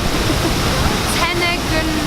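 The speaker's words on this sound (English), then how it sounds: "This is the waterfall." Tegenungan Waterfall in Ubud, Bali, gives off a steady, dense rush of falling water, loud and close, with faint voices in the background.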